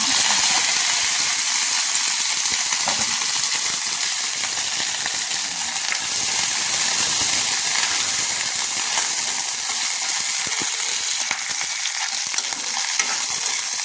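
Tenga mora seeds frying in hot oil, a loud continuous sizzle with constant crackling and occasional stirring scrapes, close and unbroken throughout.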